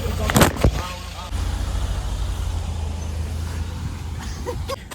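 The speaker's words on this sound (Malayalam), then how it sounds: "വണ്ടികൾ ഇങ്ങനെ പോകുന്ന കേട്ടോ ആൾക്കാർ" Road traffic passing a roadside stop in Kerala, with cars and heavier vehicles rumbling by in a steady low drone, a brief air-brake hiss near the start, and people's voices faintly in the background.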